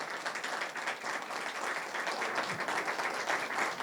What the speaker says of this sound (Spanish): vamos a darle un merecido aplauso